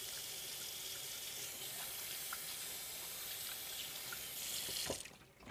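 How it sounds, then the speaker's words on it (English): Hands being washed with hot water under a running kitchen tap after handling raw poultry, a steady broad rush of water into a sink that swells slightly then cuts off near the end, with no talking. "wash your hands with hot water and soap"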